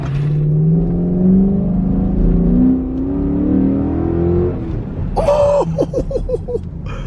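A Dodge Durango Hemi V8 fitted with a K&N cold air intake revs loudly up and down for several seconds, its pitch climbing and falling, before dropping to a rough idle with a few short voice-like bursts near the end.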